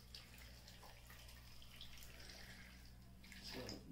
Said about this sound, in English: So you have like 1 glass of water I'm gonna add now.